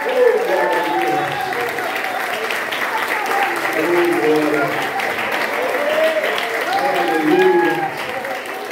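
Rhythmic clapping from a church congregation keeps going beneath a man preaching loudly and excitedly in Portuguese, with a few cheers mixed in.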